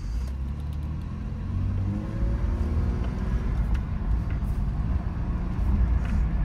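Third-generation Toyota 4Runner with the 5VZ V6 engine cruising along, a steady low engine drone with rising gear tones and road rumble from inside the cabin, continuous and moderately loud with no talking.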